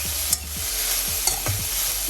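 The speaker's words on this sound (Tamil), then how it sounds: "நல்லாவே வதக்கிட்டு இருக்கோம் கொத்தமல்லியை." Coriander leaves sauté in a pan for kothamalli thokku, a steady sizzle broken by a few scraping stirs of a spatula, close and clear with no talking.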